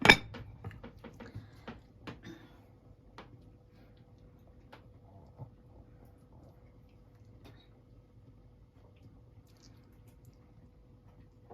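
A lid set onto a cooking pot of ginataang gulay, a loud metallic clank at the start followed by a few light clinks and ticks that fade into a quiet simmering background.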